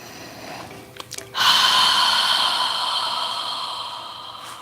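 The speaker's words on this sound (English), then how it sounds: "inhale through your nose and exhale through your mouth" Slow guided breath during a yoga relaxation exercise, drawn in through the nose and released out through the mouth: a couple of brief sniffs, then one long, steady, airy exhale that holds close and fairly loud for several seconds.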